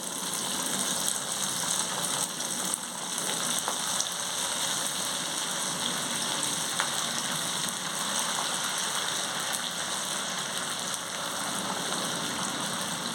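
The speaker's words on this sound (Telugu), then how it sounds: "స్టవ్ మీద ఇలా మీడియం ఫ్లేమ్లోనే వేయించుకోవాలి" Semolina (suji rava) vadas deep-fry in hot oil over a medium flame, giving a steady, dense, close sizzling hiss that runs unbroken throughout with no voices.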